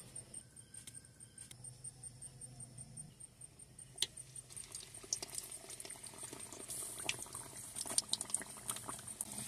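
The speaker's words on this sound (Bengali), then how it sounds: "এবার আমি পিঠাগুলো ভেজে নেব।" Palm fruit pitha fry in soybean oil with a faint, continuous bubbling crackle that grows busier and sharper toward the end.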